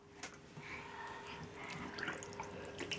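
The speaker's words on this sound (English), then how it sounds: "Have you run the bath for him?" Bath tap running into a tub at home, a quiet steady stream with light splashy flickers and no talking.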